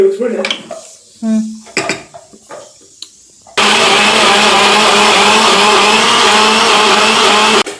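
A kitchen mixer grinder (mixie) grinding chutney for dosa starts abruptly after a few seconds of clinking dishes and short bits of voice, then runs as a loud, steady whirring roar until it cuts off at the end.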